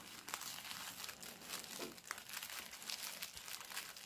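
Close crinkling of a paper bag being handled, a steady rustle with a few sharper crackles, no voices.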